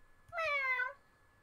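A single short, clear meow, a voice imitating a cat, with near silence around it.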